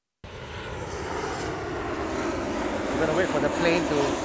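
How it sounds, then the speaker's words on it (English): A fixed-wing airplane passes overhead above a golf course, a steady engine drone swelling slowly and peaking near the end, heard alone without talk. "Wait for the plane to fly by first."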